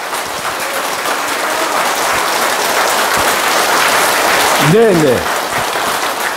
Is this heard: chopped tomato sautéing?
no